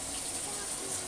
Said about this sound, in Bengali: এবার যেটা করছি, কাঁচা লঙ্কাগুলো ধুয়ে এভাবে কুলায় রেখে দিচ্ছি।